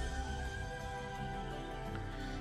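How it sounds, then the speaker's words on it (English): A horse mount in the EverQuest II online game gives a single whinny with a busy, layered game soundscape behind it, steady and fairly loud throughout. "And you have to recast your horse."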